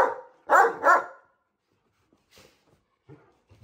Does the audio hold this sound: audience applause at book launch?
no